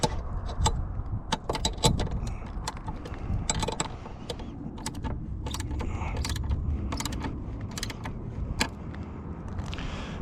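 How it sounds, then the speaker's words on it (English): A wrench tightens the U-bolt on a J-mount mast for a Starlink dish, heard as a close series of metallic clicks, ratcheting ticks and clanks in an irregular rhythm over a low background rumble. "now I've tightened this U-bolt enough to where it's actually holding the mast in place now"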